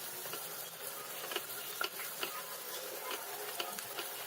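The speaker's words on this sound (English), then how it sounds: "We're going to fry the onion till it's nice and translucent." Chopped onion fries in oil with peppercorns, cinnamon and cloves, a quiet steady sizzle with light ticking pops and occasional stirring scrapes.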